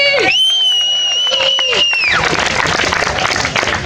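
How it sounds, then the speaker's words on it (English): Freedom rally crowd applauding and cheering for a speaker's introduction, loud and close, under a tonal sweeping whistle or siren-like sound early on, then steady massed clapping and cheering. "Everybody, round of applause for V."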